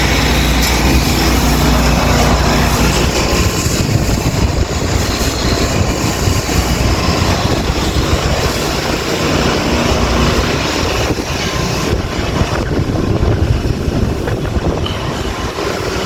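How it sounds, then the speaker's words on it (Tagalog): A pressure washer runs steadily and loudly throughout, a dense, continuous mechanical roar with broad hiss and a low rumble that barely changes over the whole stretch. "Yan, pressure washer."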